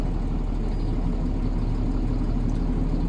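A 2002 John Deere 7810 tractor engine idles steadily nearby, a constant low rumble and chugging that does not change throughout.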